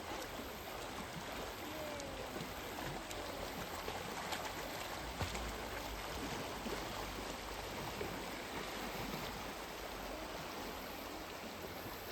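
A shallow river flows calmly near Paris, Canada, producing an unbroken, even wash of moving water at a moderate level, with no talking heard.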